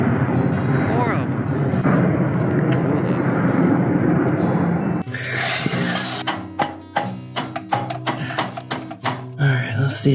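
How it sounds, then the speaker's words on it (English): A loud, steady rotor roar of a big helicopter passing overhead, then fading into background as nearby clanking and hammering from car repair work take over. "Sorry about that helicopter. It's a big helicopter."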